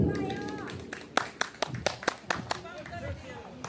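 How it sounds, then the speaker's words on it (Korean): Scattered hand claps from an audience at an outdoor evening concert, a handful of sharp, uneven claps picking up midway, mixed with people talking and calling out nearby. "박수!"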